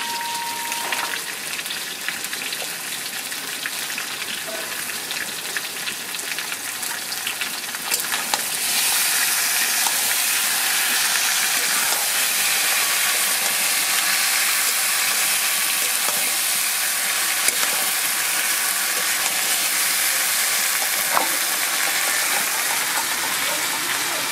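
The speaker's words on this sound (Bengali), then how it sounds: "কলাটা বেশি ভাজবো না, সামান্যই ভাজবো, অল্প সময় ভেজে দিয়ে দেবো জিরে বাটা" Raw green banana frying in hot oil with cumin paste, a steady dense sizzle that grows louder and fuller partway through and then holds, close and continuous without talk.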